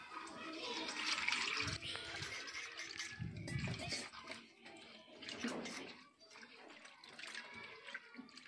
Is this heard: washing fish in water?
yes